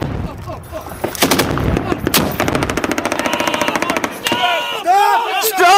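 Combat gunfire with Ukrainian special forces fighting the Russian army, including an RPG: loud rapid automatic bursts and sharp single shots close by, with shouting voices mixed in.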